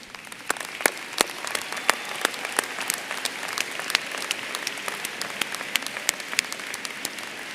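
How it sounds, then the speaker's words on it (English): Standing audience at a university commencement applauding in a continuous wash of claps, with sharp individual hand claps popping out near the front throughout. "Let's stand up and give them a round of applause."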